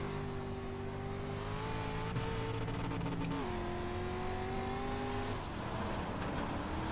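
Asphalt modified race car engines in the iRacing sim roar steadily and loudly throughout, with sustained revving whose pitch climbs, dips around the middle and rises again, with no talk over it.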